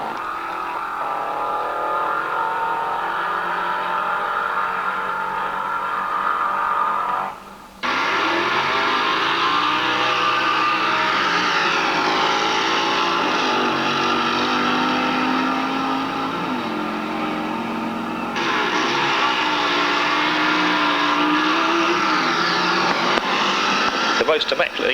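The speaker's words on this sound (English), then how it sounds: "two Kens come out, Ken Cooper and Ken Bunce, whose jag engine slingshot was called Baron's Barrow." Jaguar-engined slingshot dragster at a 1960s UK drag racing meet, a loud sustained engine roar that cuts briefly, then returns and holds at full strength, with announcer talk over it.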